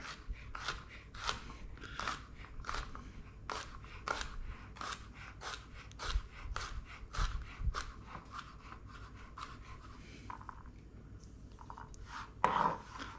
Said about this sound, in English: We're going to mince the garlic.